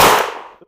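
A single sharp shot from a VZ 52/57 rifle, a loud close crack that decays quickly into a short ringing tail.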